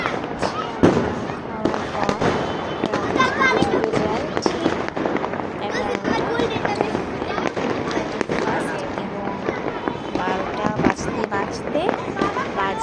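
Fireworks and firecrackers burst repeatedly at a New Year's Eve night party, sharp cracks and pops in dense irregular bursts, some near and loud, others farther off, while someone talks over them.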